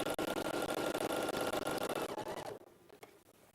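A sewing machine stitching a quilt seam, running fast with a rapid, even mechanical chatter up close, then stopping abruptly and leaving a few faint clicks and handling noises.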